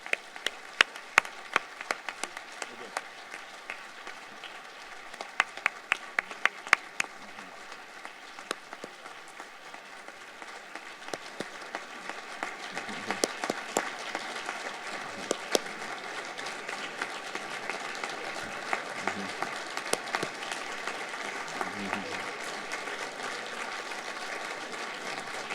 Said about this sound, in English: Please join me in a concluding round of applause for these inspiring individuals.